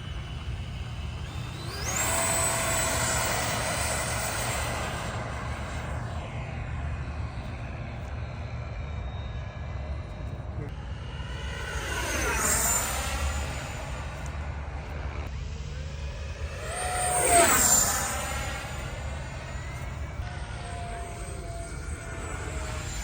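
An FMS F-86 Sabre 80mm EDF radio-controlled jet on its maiden flight makes three loud rising-and-falling whooshing passes, its fan whine sweeping up and down in pitch as it flies by against steady background noise.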